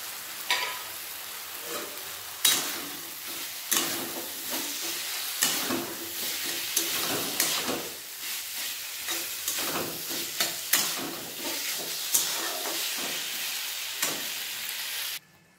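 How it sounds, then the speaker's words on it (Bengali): Drumstick pieces fry in cooked spiced masala in a pan, a steady sizzle broken by repeated scraping stirs and clacks of a spoon at irregular intervals, close and moderately loud with no voices. "এরপর দিয়ে দেবো সজনে ডাঁটাগুলো।"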